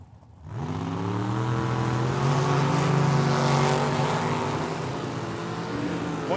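A blue Oldsmobile and a dragster launch side by side at the Tucson Dragway. Loud, close engines roar and rise in pitch, holding a sustained, strained howl as they accelerate down the strip.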